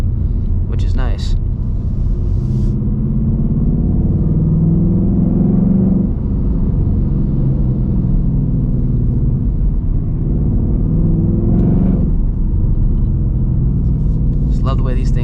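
A 2024 Ford Mustang GT engine drones as a steady low rumble from inside the car while driving, loud and constant, swelling slightly at moments, with faint brief noises over it and no clear talk.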